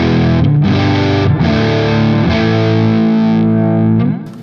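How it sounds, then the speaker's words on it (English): An electric guitar through a fuzz pedal chugs and sustains with a thick, saturated, breaking-down tone, loud and close, with a few chord changes before the ringing decays at the end. "If you are in any way familiar with fuzzes, I would describe the sound of as something that's kind of breaking down"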